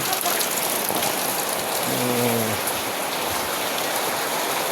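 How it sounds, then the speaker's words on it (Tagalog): Steady, dense rainfall hissing continuously, loud and close, with a brief faint tonal sound partway through. "Ulan, oh. Ulan."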